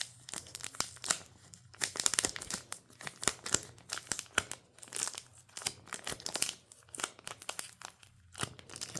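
Tape is ripped off a mailed package holding militaria, heard close up as repeated bursts of tearing and crinkling with short pauses between pulls.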